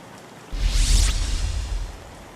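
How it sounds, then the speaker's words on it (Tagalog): Heavy rain pours down during flooding in Baliwag, Bulacan, rising suddenly into a loud, dense wash that holds steady for about a second and a half before easing back. "kaninang pasado alas 4 ay mas lalo pang lumakas yung pagbuhos ng ulan dito"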